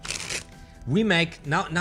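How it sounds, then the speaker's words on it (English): A deck of playing cards being shuffled during a sleight-of-hand card trick, with quick riffling bursts that are mixed in with someone talking over them. "Still we're shuffling the cards because I need to control the card to the top."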